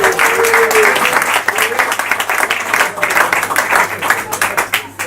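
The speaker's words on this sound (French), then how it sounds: "Je vous demande de l'applaudir." An audience applauds at a slam poetry evening in a cellar venue in Nice, a dense burst of clapping that thins and fades toward the end.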